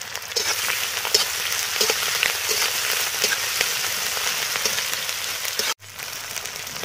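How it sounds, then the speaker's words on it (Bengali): Onion and ginger paste frying in a pan for a desi chicken curry: a steady, close hiss and crackle of sizzling oil that cuts off abruptly near the end, then resumes. "পেঁয়াজ আদা ভালো করে ভেজে নিয়েছি।"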